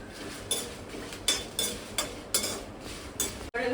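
Dried red chillies are stirred in a pan as they fry: a quiet, close scraping stroke roughly every half second, each with a light metallic clink.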